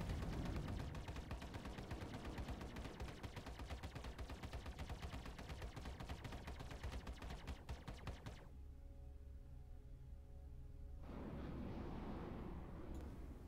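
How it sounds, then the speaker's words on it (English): Hornet ship guns in the Star Citizen video game fire while the ship boosts at full throttle: dense rapid gunfire over an engine rumble, cutting out briefly before the engine roar returns, with no voices. "For this one, we will be firing while boosting at full throttle."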